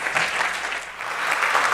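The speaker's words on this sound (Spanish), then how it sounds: "Démosle un fuerte aplauso de bienvenida" Audience at the SaludMX health forum applauding in welcome for a speaker: a dense, steady burst of clapping from a large crowd, loud and continuous throughout.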